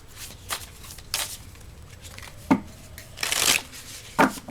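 Tarot cards shuffled by hand in a few separate bursts of soft riffling and slapping, close by and quiet, with pauses between.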